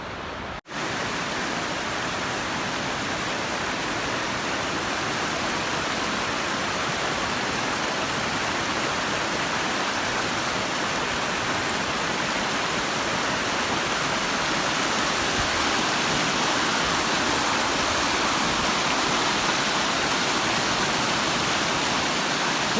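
A rushing river at a trail crossing on a Pacific Crest Trail section hike, a dense continuous roar of fast water, loud and steady throughout with no voices.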